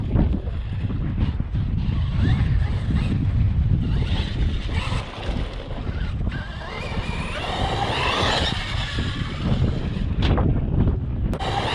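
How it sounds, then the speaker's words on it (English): Wind gusts across the microphone at an outdoor mountain bike track, rumbling and buffeting in uneven surges, with faint higher whirring sounds mixed in. "here comes the wind"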